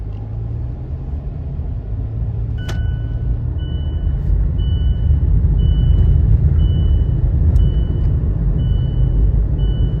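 Mazda CX-5 after a transmission service, driving and shifting up through its gears: a steady low engine and road rumble throughout, with thin electronic beeps repeating from the cabin.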